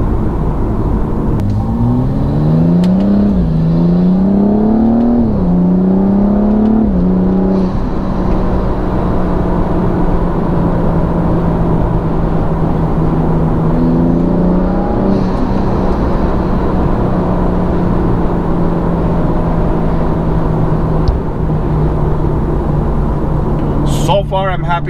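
BMW with an N55 engine running a JB4 tune accelerates hard, engine note climbing through several rising sweeps with gear changes, then settling into a steady drone under continuous talk.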